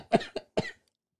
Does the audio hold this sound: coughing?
yes